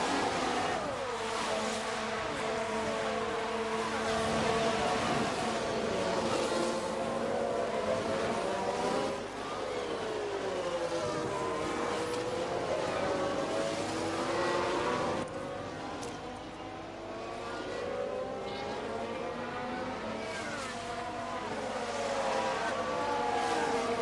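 Formula 1 race car engines in F1 Manager 22 at Mexico City, a continuous loud high-pitched whine of several cars with rising and falling pitch sweeps as they pass and shift, sustained throughout.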